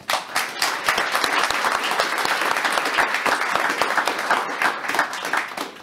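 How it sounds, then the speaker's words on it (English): A room of conference attendees gives the panelists a sustained round of applause after a cloud-infrastructure tech panel, the dense clapping staying loud and even throughout with no voices on top. "I think they deserve a round of applause"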